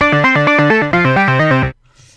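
Synth preset passed through a vintage-style effect set to the 1960 mode plays a quick run of chopped, bouncing notes, loud and close, then stops abruptly into near silence.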